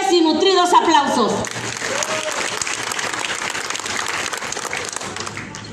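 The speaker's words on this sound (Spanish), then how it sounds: "pido fuertes y nutridos aplausos" An audience at a civic swearing-in ceremony in a Oaxacan town breaks into steady, dense applause that carries on evenly after a voice fades out at the start.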